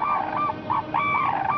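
A Japanese crane gives loud, clear honking calls in a repeated series of long and short notes, with no talk over them.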